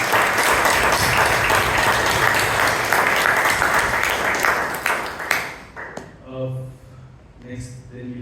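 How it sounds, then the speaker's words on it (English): Audience applause at a Toastmasters club meeting in Bangalore, dense steady clapping from a room of people for about five seconds that thins out and stops, followed by quieter voices. "Please do a lot of applause."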